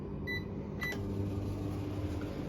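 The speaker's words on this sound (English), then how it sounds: "Now let's put the microwave on" A microwave oven running to heat a donut, powered off grid by a solar and lithium battery setup, gives a steady low hum with a few faint beeps near the start.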